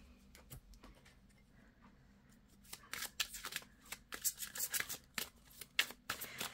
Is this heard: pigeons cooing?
no